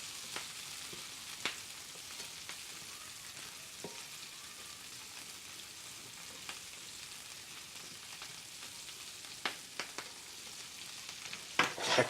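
Beef stir-frying in a pan until crispy, a soft, steady sizzle with occasional light clicks of a utensil against the pan, fairly quiet and close, no voices.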